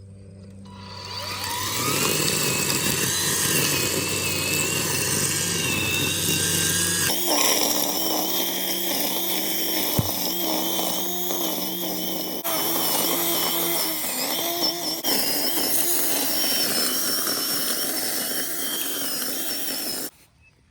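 Ryobi 40V cordless 15-inch string trimmer running, a loud steady high-pitched whine that shifts in tone as it cuts, then cuts off abruptly near the end.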